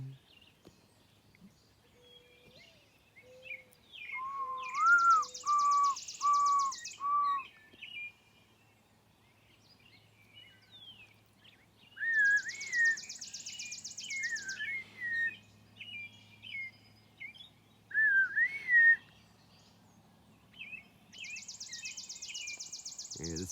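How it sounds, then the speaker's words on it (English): Birds chirp in repeated bursts of high trilling song with short whistled notes between, fairly close and moderately loud over a quiet background, recurring roughly every seven seconds. "They'll probably just silence the birds."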